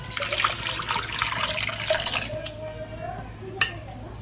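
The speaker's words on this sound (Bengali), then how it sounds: "এবার যে ডালটা সিদ্ধ করে রেখেছিলাম সেটাকে দিয়ে দেবো।" Boiled mung dal pours into a pan already holding raisins, a continuous wet splashing and glugging that tapers off, followed by a single sharp metallic clink near the end.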